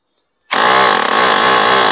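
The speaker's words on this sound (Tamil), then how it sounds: "இது வந்து ஹேமர் ட்ரில்லிங்." A hammer drill starts abruptly and runs loud and steady, a harsh buzzing whine with a rapid hammering pulse, up close.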